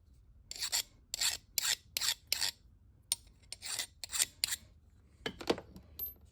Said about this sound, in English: I've got a file here, and it's just gliding over